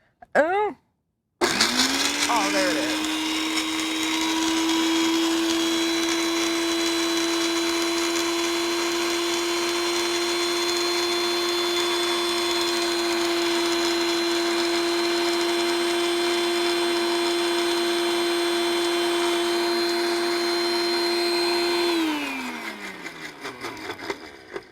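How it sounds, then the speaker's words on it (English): A new kitchen blender runs continuously for about twenty seconds with a loud, steady high whine, then winds down at the end after a brief startup click; a voice speaks briefly before it starts. "this is a new blender, as you can see"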